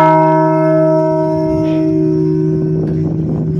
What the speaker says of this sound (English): I'm gonna ring that bell